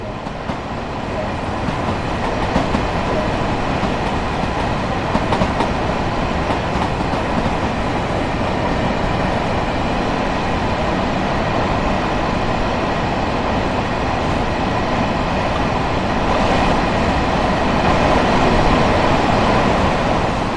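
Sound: train running on rails in video game

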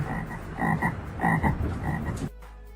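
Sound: frogs croaking mating calls

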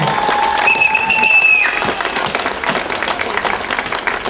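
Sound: audience applause

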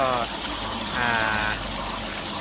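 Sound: homemade two-tier waterfall flowing

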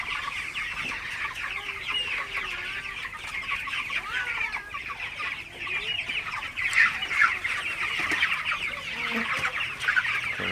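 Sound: broiler chickens clucking while drinking water

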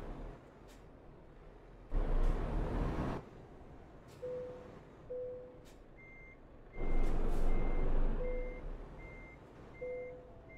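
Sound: truck reversing beeps while parking in Euro Truck Simulator 2 video game

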